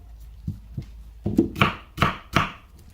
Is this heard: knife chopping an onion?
yes